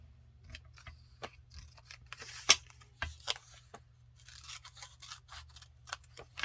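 Scissors snip through excess paper on a mixed media junk journal page, giving scattered short crisp cuts and rustles at close range with no voices.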